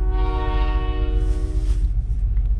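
A loud train horn blares for about a second over the heavy rumble of a passing train, which keeps roaring after the horn stops.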